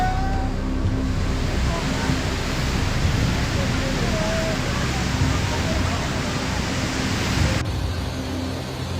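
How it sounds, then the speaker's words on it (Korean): Muddy flood water surges across a wide area in a dense, continuous roar, loud and unbroken from start to finish like heavy rushing surf. "지금 보시는 진흙이 많이 섞인 홍수는 마치 동일본 대지진 때 쓰나미를 연상시키듯 광범위하게 밀려오고 있는 놀라운 모습인데요"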